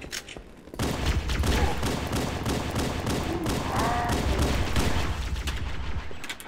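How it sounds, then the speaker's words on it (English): Rapid bursts of plasma rifle fire in Halo: Combat Evolved, dense continuous crackling shots that carry on loudly for several seconds with a brief whine in the middle. "that guy's got a trigger finger on that plasma rifle"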